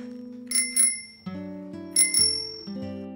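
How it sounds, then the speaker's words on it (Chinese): A bicycle bell rings in two bright double bursts, close and clear, over a sustained musical score in a 2000 family fantasy film. "为了证明自己没有说谎，他拿出了小哥送给他的自行车铃铛。"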